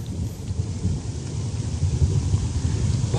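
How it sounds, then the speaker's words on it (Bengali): Sudden heavy downpour with thunder at Tanguar Haor, a steady dense roar of rain with low rumbling underneath, continuous and fairly loud throughout. "আবারও হঠাৎ করে ঝুম বৃষ্টি শুরু হলো।"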